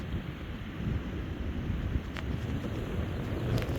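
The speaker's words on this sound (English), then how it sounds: "you can still hear the wind. It's still present." Wind from a coastal storm in the Cape, a constant low, blustery rumble buffeting the microphone throughout, with faint higher hiss and no voices.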